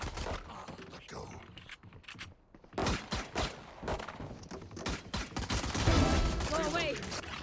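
Gunfire from a tactical shooter video game sounds as bursts of sharp cracks and clattering mechanical noises, mixed with game callouts and player voices.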